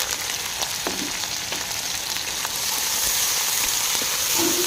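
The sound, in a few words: frying dried chilies and garlic in hot oil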